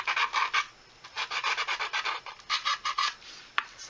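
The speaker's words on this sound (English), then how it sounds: "Sand it up." Clone trooper knee armour is sanded by hand in quick bursts of rhythmic rasping strokes, about a dozen close, scratchy passes in groups with short pauses between, ending in a small click.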